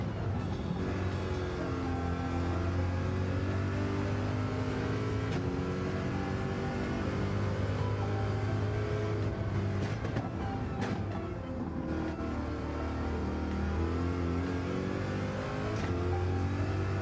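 Race car engine in Gran Turismo 7, droning steadily at high revs with shifting pitch as the car is pushed around a lap, loud and continuous throughout with no talking.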